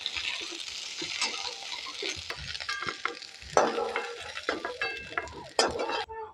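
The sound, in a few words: stirring frying pointed gourd in a pan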